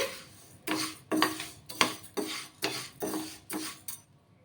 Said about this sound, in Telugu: కొద్దిగా కలర్ చేంజ్ అయ్యే వరకు ఈ పెసరపప్పుని మనం వేయించుకోవాలి